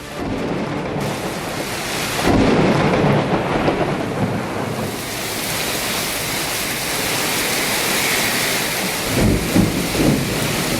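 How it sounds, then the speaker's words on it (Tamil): Heavy rain with wind pours down at night around Madurai, a dense constant roar broken by two deep rolls of thunder, one early and one near the end. "நள்ளிரவில் பெய்த காற்றுடன் பெய்த கனமழை"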